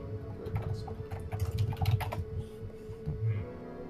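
Fingers tap quickly on a computer keyboard to run a Google search, a close run of uneven clicks and keystrokes with brief pauses between bursts.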